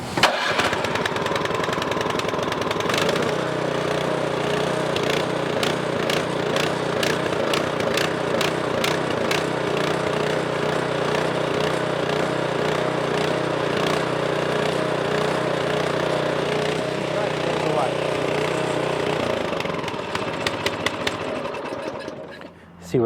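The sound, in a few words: Toro Power Clear 721 snowblower engine starting and running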